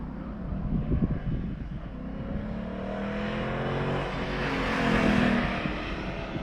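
A Mustang race car at Gingerman racetrack approaching and roaring past, its engine note building to a loud peak then easing away, heard alone at moderate distance.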